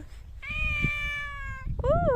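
A cat gives a long, clear meow close by, followed shortly by a second, shorter rising meow, with faint low background noise.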